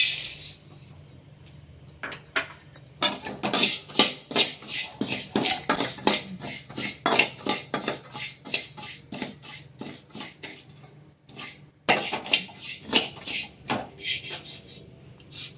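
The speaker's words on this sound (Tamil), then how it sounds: "அடுத்தது நம்ம சீரகத்தை வறுத்துக்கலாம்" Cumin seeds being dry-roasted in a pan, close, busy clatter and scraping of metal on metal in quick irregular bursts, with a short pause near the middle.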